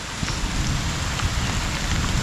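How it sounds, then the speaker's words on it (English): Heavy rain pours steadily on a flooded hiking trail during a storm, a dense, even hiss of drops hitting surfaces close by, with no voices. "And it just continues to rain like hell."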